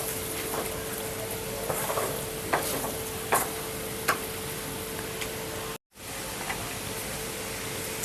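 Liver masala frying in a pan gives a steady sizzle with occasional scraping clicks of stirring, moderately loud and continuous, with a brief dropout near the end before the sizzling resumes.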